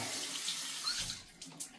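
Tap water running steadily into a sink to wet a facial cleansing brush before cleanser goes on, a continuous close hiss and splash with a couple of brief drips near the end.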